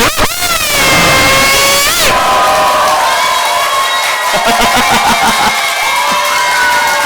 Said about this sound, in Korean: 이분들 정말 위해서 박수 한번 하시겠습니까?